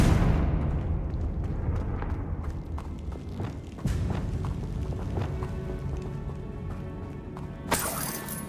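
The Confringo explosion spell goes off in the Hogwarts Legacy video game with a loud opening burst, then a crackling, shattering tail. More sharp cracks and a second booming hit follow, and a bright flare comes near the end. There is no talking.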